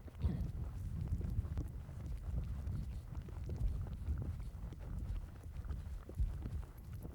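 Horse hooves clopping in a steady walking rhythm during riding training over small fences, a soft continuous low thud pattern with light wind, close and moderately quiet.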